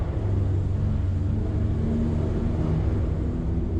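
A Dodge Challenger Scat Pack idles with a deep, steady exhaust rumble inside a parking garage, loud and close, the low drone holding level throughout with no voices.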